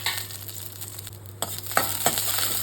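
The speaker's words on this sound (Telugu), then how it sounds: "అదే ప్యాన్లో కొద్దిగా నూనె వేసి చిన్న ముక్కలుగా చేసుకున్న పచ్చిమిరపకాయలని వేయించుకోవాలి" Chopped green chillies fry in a little oil in a pan, making a steady hiss with a few brief stirring scrapes near the end, close and fairly quiet, with no one speaking.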